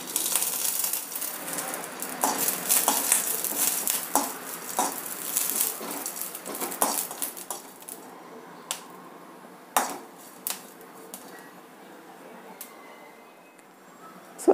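Garlic cloves, curry leaves and a little oil roasting in a pan for Malnad-style chutney, with a soft sizzle under repeated metallic scrapes and clinks of a spoon against the pan, busy at first and then sparser.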